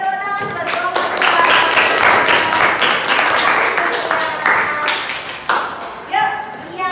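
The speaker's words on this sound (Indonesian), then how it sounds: "Beri tepuk tangan buat kelompok 2." Classroom applause for a student group, a lively round of clapping from many hands that swells, holds, then fades into a few scattered claps, with voices mixed in.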